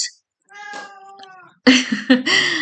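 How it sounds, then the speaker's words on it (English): A cat meows several times, plaintive then louder and more insistent, with short drawn-out cries close by. "That's my cat meowing."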